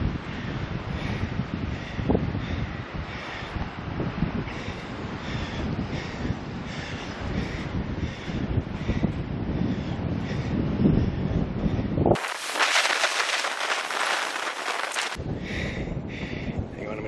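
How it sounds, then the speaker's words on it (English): Steady wind gusting across the open back country of the Kaibab Plateau, a continuous rushing roar with buffeting on the microphone and a sharper, brighter burst of wind noise near the end. "The wind's picking up."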